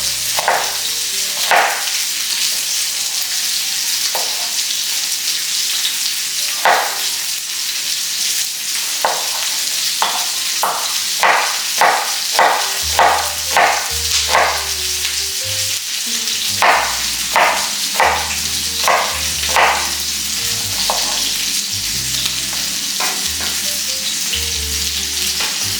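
Fish frying in a pan with a loud, constant sizzle, while a run of sharp knife strokes on a board cuts in and out over the hiss.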